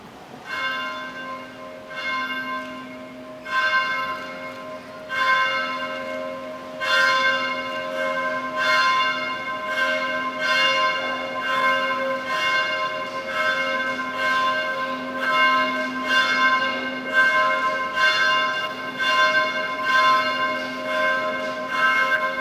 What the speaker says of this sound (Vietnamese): Xin cha hãy kéo lên tiếng chuông kêu mời các tín hữu quy tụ để lắng nghe lời Chúa